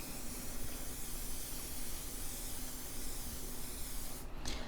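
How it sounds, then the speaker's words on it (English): Aerosol protective spray hisses in one steady burst of about four seconds onto the leather strap of a Fossil Sydney satchel, close and alone. "Okay, I gave it quite a good spray"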